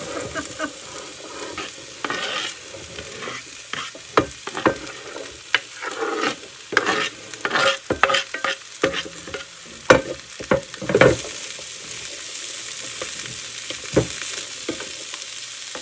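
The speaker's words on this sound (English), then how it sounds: "I'm going to let these saute for a few minutes at 350" Summer vegetables sauté in a hot pan at 350 degrees, sizzling steadily with frequent loud scraping and clattering strokes from a stirring utensil, most active in the middle stretch.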